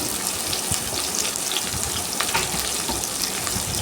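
Onions and green chilli sautéing in a pan for a spicy dry fish masala, a loud, continuous close sizzle with light stirring scrapes, no voices.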